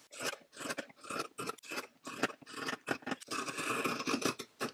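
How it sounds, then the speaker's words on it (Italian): Scissors snip through skirt facing fabric in a tailoring workshop, a rapid run of close, crisp rasping cuts with short pauses between strokes, no talking. "Mi taglio le paramonture."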